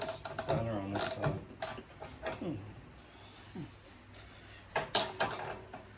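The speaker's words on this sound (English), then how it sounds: "Gotta have this spanner on this side." A spanner ratchets against a bolt on a Go Power Sports Rascal mini bike during assembly, with quick metallic clicking bursts at the start and end and quieter handling noise between.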